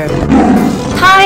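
In a children's animal quiz game, a cartoon tiger lets out one short, loud, growling roar at close range, overlapping a voice that speaks.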